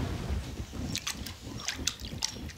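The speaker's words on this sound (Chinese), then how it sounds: "漂的腰花放到水里面，给它洗一下" Sliced pork kidney being rinsed and rubbed by hand in a bowl of water, giving soft intermittent sloshing and trickling splashes close by, with no talking.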